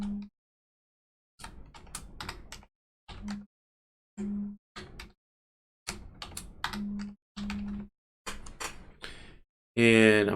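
Password being typed on a computer keyboard, short clusters of close key clicks separated by silent pauses, with a louder burst at the end.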